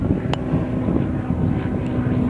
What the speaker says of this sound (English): Got a seaplane going overhead.